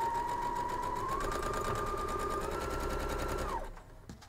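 Quilt pieces being stitched on a sewing machine, a steady fast mechanical whirr with a rising whine that runs for several seconds, then stops abruptly near the end.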